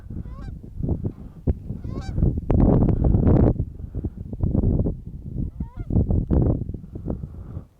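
A flock of geese honks loudly and close by outdoors at sunrise in Boise, calls overlapping in rapid, uneven bursts with no talking.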